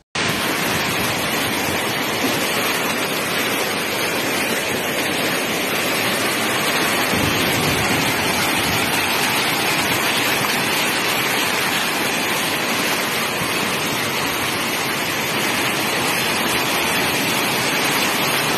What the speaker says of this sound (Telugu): వాగులు వంకలు పొంగిపొర్లుతున్నాయి